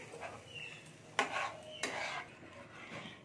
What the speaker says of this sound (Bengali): জলটা দিয়ে আমি ভালো করে ঘেটে নিচ্ছি।